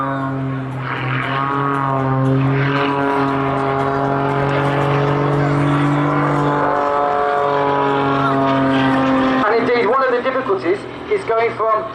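Jet aircraft engines on an air display, pushed to full thrust on one side with full rudder and slowed from 140 knots toward a hover, make a loud, steady, droning roar that builds and then breaks into rougher pulsing near the end.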